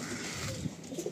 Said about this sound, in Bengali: এই পায়রাগুলো আমি ছাড়লাম